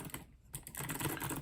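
Rapid typing on a mechanical keyboard with Kailh Box Glazed switches, a dense run of close, crisp keystrokes after a brief pause, loud and alone.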